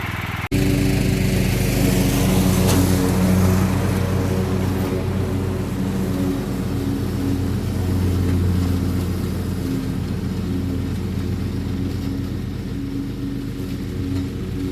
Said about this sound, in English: One resurrected John Deere Sabre Lawnmower.